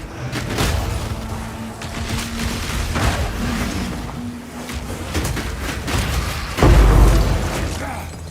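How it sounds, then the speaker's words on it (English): Explosions and combat effects from the video game Path of Exile 2 played as a Warrior Titan, a dense rumbling stream of impacts capped by one loud deep boom near the end. "That explosion was very satisfying"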